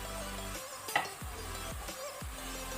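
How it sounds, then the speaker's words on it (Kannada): Mutton pieces and tomato frying in a pan over medium-high flame for pepper mutton masala, with a steady close sizzle and a few spoon stirs and scrapes against the pan. "ಇದನ್ನು ಸಹ ನಾವು ಮೀಡಿಯಂ ಟು ಹೈ ಫ್ಲೇಮಲ್ಲಿ ಫ್ರೈ ಮಾಡ್ಕೊಳ್ಳಿ"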